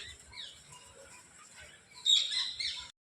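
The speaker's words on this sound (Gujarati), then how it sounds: "આ પક્ષી ઘર પક્ષીઓ બધા ચણવા આવે" Birds gather to peck at grain in a school yard, giving off small chirps and tweets, faint at first and then a brighter, louder burst of calls near the end, with no talking.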